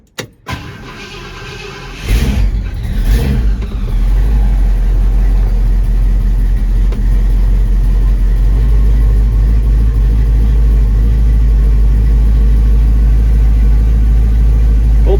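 A 1968 Ford F-100 engine makes a brief starter crank, catches with a loud burst, and then settles into a steady, loud, rumbling idle close by.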